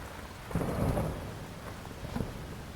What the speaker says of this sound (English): The storm sounds in this game, by the way, really fucking good.